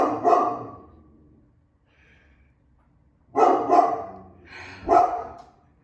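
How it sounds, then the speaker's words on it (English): A pet dog named Poppy barks indoors in a burst of loud, close barks, then falls quiet before two more clusters of sharp barks follow. "my dog is barking for some reason"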